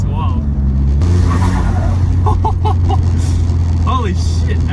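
A modified 2008 Volkswagen Golf GTI Mk5 engine drones loudly from inside the cabin, revving and roaring under excited voices talking over it.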